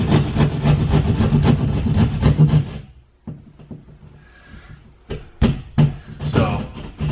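A hole being cut into drywall in a house during a home theater wiring install, giving a steady close rasping, sawing scrape for about three seconds, then sparse scrapes, knocks and handling noises.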